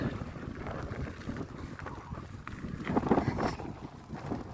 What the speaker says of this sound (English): Little bit of a headwind today.